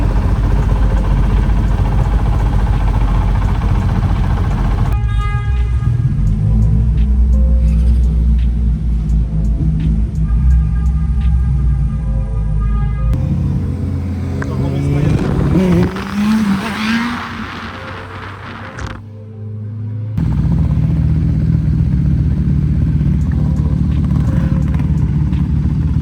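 A Honda Integra engine idles steadily after a half-size radiator install, with its cooling fan running; a loud, continuous rumble holds throughout, shifting in tone midway with a brief dip near the end.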